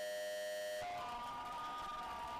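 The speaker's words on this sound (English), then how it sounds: "That's the full-time siren." Full-time siren sounding at a men's goalball final in Espoo, a steady tonal blare that cuts off after under a second and gives way to crowd and hall noise.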